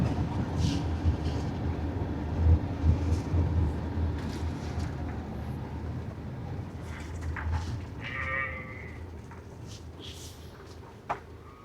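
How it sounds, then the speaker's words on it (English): Sheep bleat intermittently over a dense, rumbling background of wind or machinery on the Isle of Lewis, Outer Hebrides, the calls somewhat distant and partly buried in the noise. "But the sheep still speak sheep."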